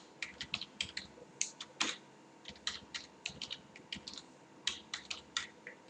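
An email address is typed on a computer keyboard: quick, irregular key clicks in short bursts, close and quiet, with no talking.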